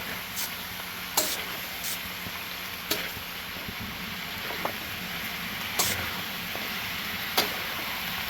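Frog adobo with garlic, onion and ginger sizzling in a pan, a steady frying hiss under occasional sharp scrapes of a spatula stirring; close, fairly even, no voices.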